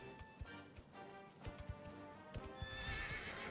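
A horse in Dragon Quest XI gallops with uneven thudding hoofbeats and then gives a rising neigh toward the end, moderately close and clear with no talk.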